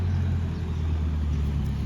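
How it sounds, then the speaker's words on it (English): A car on a road rumbles steadily at close range, its low engine drone holding even for the whole short stretch with no other sounds over it. "That is a car."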